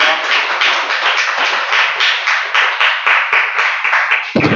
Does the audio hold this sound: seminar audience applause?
yes